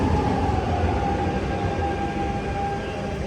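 Riding a Lisbon metro train, a loud, steady rumble of wheels and car body fills the space with a faint tonal whine running throughout, no voices.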